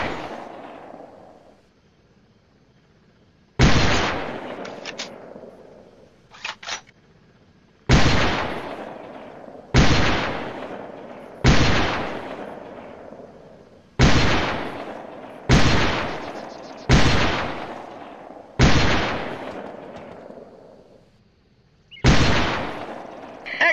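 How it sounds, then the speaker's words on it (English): Rifle grenade launcher in the Delta Force: Land Warrior video game fires at training targets: about nine loud, booming blasts at irregular intervals, each followed by a decaying rumble, with short quiet gaps between them and no voices. "Your training allows you to lob gun launch grenades by placing your weapon's crosshair over your target."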